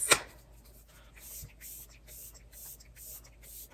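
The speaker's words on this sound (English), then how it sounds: "I'm not sure how I feel about this setting spray." Setting spray misted onto a made-up face, a series of short, soft hissing spritzes in a steady rhythm, close and fairly quiet, with no talking.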